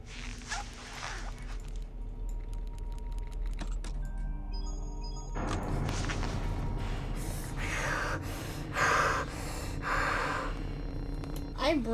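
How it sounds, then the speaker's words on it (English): Loud, heavy breathing close to the microphone from a player during a tense horror game, repeated gasping breaths over a steady background of game sounds. "I'm breathing so loud."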